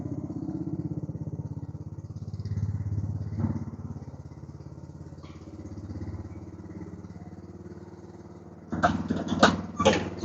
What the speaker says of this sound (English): So right now I'm in the garage and the lawnmower is running.